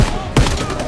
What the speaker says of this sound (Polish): trzeszczące odgłosy wystrzałów